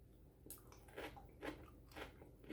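Quiet, close crunching as stir-fried snow pea pods are bitten and chewed, a few distinct crisp bites spaced over a couple of seconds.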